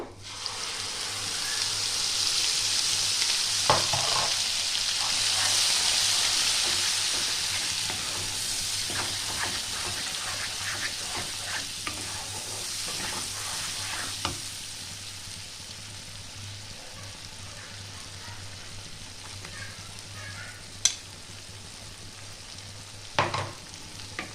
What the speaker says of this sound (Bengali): মশলাটা একটু ভালো করে কষিয়ে নিতে হবে